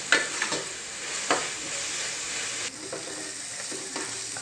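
Fenugreek leaves frying in oil, a close sizzle broken by a few sharp scraping stirs of a utensil against the pan, with no talk.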